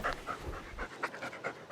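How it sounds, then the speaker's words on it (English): Basset Hound puppies panting nearby in quick, steady breaths, rhythmic and fairly loud, with no talking. "The Basset Hound puppies are happy to be able to play again."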